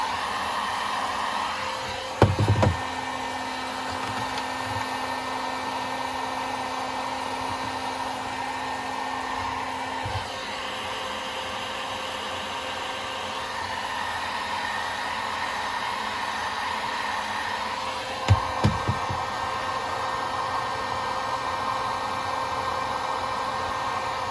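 A heat tool blows hot air on an Apple Time Capsule to loosen it for peeling, giving a loud, steady, close whirring hiss throughout, broken by two brief knocks near the start and end.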